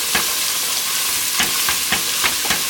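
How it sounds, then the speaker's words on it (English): Whole cumin seeds toasting in a hot pan, a steady close sizzle broken by several quick scraping stirs at irregular intervals, no talking. "I'm going to want to stir this pretty rapidly so that it doesn't burn"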